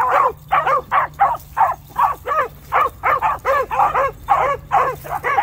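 A pack of hounds bays in steady, overlapping bursts while chasing a rabbit, loud and close, with short pauses between each round of cries.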